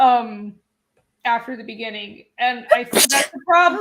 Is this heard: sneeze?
yes